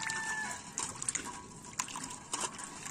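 Water running and splashing while coriander leaves are rinsed by hand, a faint trickle with a few soft splashes and drips close by.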